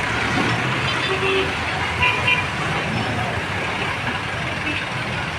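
Heavy road traffic heading toward Monumento on a damaged road: a steady, loud roadway roar of trucks, buses and cars passing close by, with a brief horn toot.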